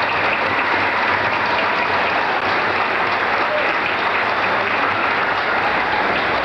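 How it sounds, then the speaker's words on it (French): A large audience claps steadily and loudly throughout, a dense unbroken wash of applause from a crowd in a hall. "on pourrait peut-être lui donner une main d'applaudissement à lui aussi"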